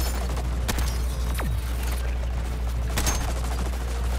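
Gunfire aimed at constructs in Suicide Squad: Kill the Justice League, sharp shots and bursts over a steady low rumble and hum, with a descending whistling tone partway through.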